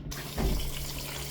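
Toilet cistern refilling with water through a tap: a close, steady rushing hiss of running water that swells sharply after a brief start and keeps flowing evenly for the short moment, with no talking.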